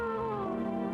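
A single drawn-out cat meow, clear and close, from a horror video game. The tone slides slightly downward and stands alone.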